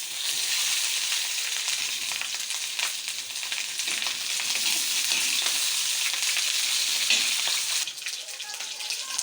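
Chicken feet frying in a pan for adobo: a loud, continuous close sizzle with crackling and spattering, slight stirring noises, steady throughout.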